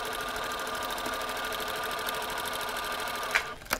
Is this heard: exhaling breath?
no